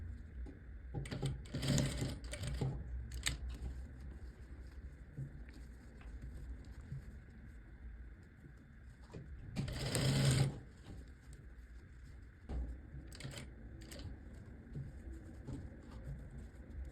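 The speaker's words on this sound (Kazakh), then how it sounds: "резинаны тігіп кетпей, мынаны айналдырып тігіп шығамыз" A sewing machine stitches elastic into the cuff of a bomber jacket with a steady mechanical whir close by. The whir runs throughout, with a few louder bursts of fast stitching.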